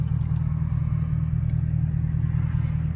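A Camaro SS makes a steady, deep engine rumble from inside or near the car, a continuous low drone without clear revving peaks and no talking.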